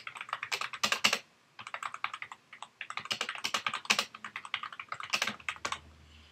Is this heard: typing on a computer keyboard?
yes